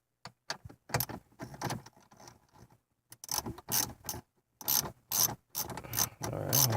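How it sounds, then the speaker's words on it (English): A 1/4-inch drive ratchet with a 10mm socket loosens a radio screw in a 2006–2012 Toyota RAV4, making close, rapid ratcheting clicks in bursts separated by brief pauses, growing busier toward the end. "This is a number 10mm socket. So I just go here and loosen it up"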